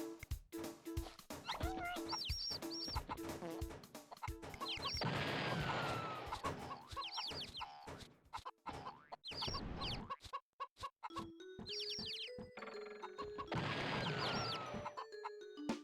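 Chickens cluck repeatedly in the video game Mort the Chicken, short bursts layered over game music and crashing effects, steady and fairly loud throughout.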